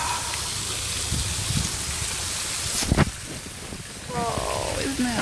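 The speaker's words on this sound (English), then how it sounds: "Just a really narrow waterfall." Narrow waterfall near a downtown hot springs, a steady broadband rush of falling water running continuously throughout, with a brief louder splash and faint voices near the end.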